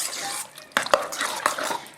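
A spoon stirs a thick, soupy green bean and corn casserole mixture with sour cream and cheese, giving a few soft scraping clicks against the bowl over a low background hiss.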